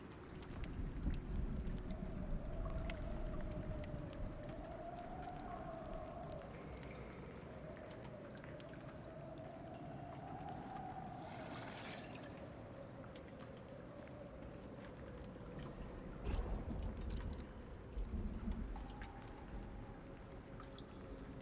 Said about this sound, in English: It's quite the storm raging out there.